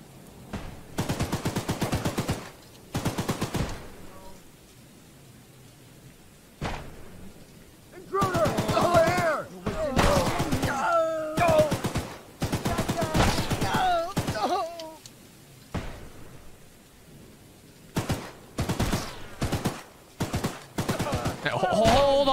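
Gunfire in the Choo-Choo Charles video game, repeated loud bursts of rapid shots separated by quiet gaps, with a voice also heard between and over the firing.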